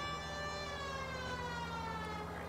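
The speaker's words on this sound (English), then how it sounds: "that's why I don't use the fucking siren in this game, because it's annoying as shit" A police car siren wails steadily in a video game, rising and falling in a continuous tone at moderate volume with no talking.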